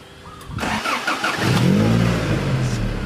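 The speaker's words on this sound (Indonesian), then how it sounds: "Oke, friend, kita coba untuk mesinnya ya, friend." A 1989 Honda Civic LX engine cranks briefly and then catches, settling into a deep, steady rumble close to the microphone with no talking over it.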